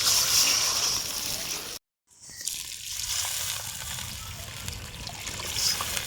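Water poured from a small vessel into a pot while cooking a coriander, pepper and cumin rasam, a steady trickling splash with a short gap partway through.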